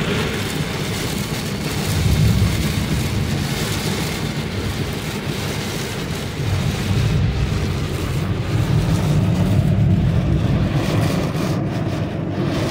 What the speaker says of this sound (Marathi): जबरदस्त म्हणजे जबरदस्त मोठा पाऊस चालू झालेला आहे